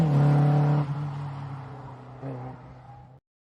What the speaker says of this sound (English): Arguably, that is how a car should sound, isn't it?